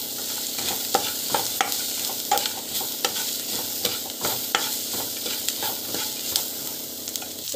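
Onions sauté in a pan with turmeric, asafoetida and salt, a continuous close sizzle broken by frequent spatula scrapes and clacks in an uneven rhythm, with no talking.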